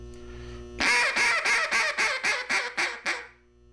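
A duck call blown in a quick, even string of about ten loud, nasal quacks, pitched high to mimic a young hen, close up.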